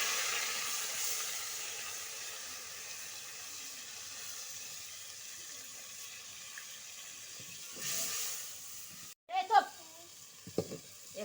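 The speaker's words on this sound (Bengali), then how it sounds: "এখানে আমার পেঁয়াজ মশলা কষে নেওয়া হয়ে গেছে" Onions and spice paste fry in a pan with a soft, steady sizzle, faint and continuous, then a few sharper clatters and stirring sounds near the end; no speech.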